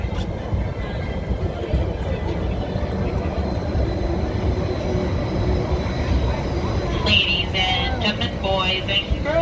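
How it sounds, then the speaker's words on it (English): Disneyland Resort tram riding from the parking structure toward the park entrance, a steady loud rumble of wheels and motor throughout, with a faint chime-like tone near the end. "please remain seated with all the doors closed until the tram has come to a full and complete stop"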